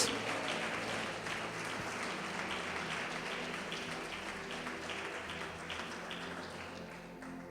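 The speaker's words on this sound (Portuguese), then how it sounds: "Aplauda, glorifique o Deus da luz." A church congregation applauding during a worship service, a dense, continuous roll of clapping under a steady musical backing, fairly quiet and even throughout.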